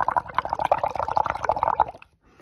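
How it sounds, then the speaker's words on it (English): Bubbles blown through a straw into a cup of water mixed with a little detergent make a rapid, close bubbling gurgle lasting about two seconds before stopping. "I get my straw and I'm going to blow some bubbles"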